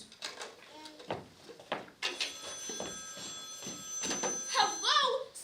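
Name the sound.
telephone ringing in radio drama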